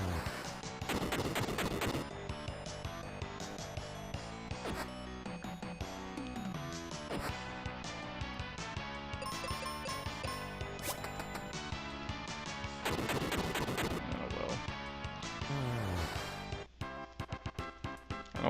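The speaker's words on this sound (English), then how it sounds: "I don't think the bombs ever miss either." Bombs exploding during a dungeon battle in the video game Final Fantasy Mystic Quest, loud crashing bursts layered over continuous game music, with heavier blasts near the start and again later.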